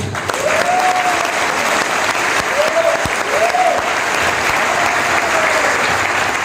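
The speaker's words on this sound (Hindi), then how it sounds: "तालियां ऐसे बजाओ जैसे भूख लगी हो बहुत जोर की" Sustained loud applause fills a seminar hall in Karnal, with continuous clapping from the audience and scattered whistles and cheers rising over it from start to end.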